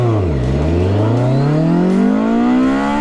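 A 2010 BMW K1300 GT motorcycle accelerates hard, its engine note dipping briefly then climbing steadily in pitch through a long first-gear pull, loud and close with no talking.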